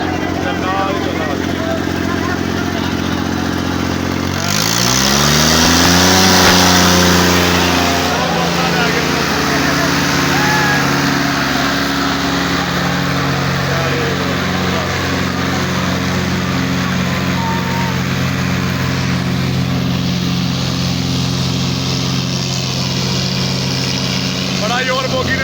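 Tractor engines roar in a tractor pulling contest in Punjab, Pakistan, a loud, sustained drone that rises in pitch as one revs hard early on, then holds heavy and steady, with a crowd and talk mixed underneath.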